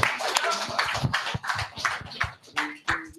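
Sharp hand claps sound in quick irregular bursts during a live radio show, mixed in among voices talking, moderately close and fairly quiet overall.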